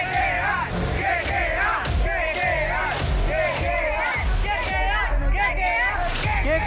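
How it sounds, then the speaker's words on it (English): Crowd of KKR cricket fans shouting in rhythmic chant bursts, loud and near, with yelling voices and babble over a steady roar and little distinct clapping. "start clapping loudly and shout KKR! KKR!"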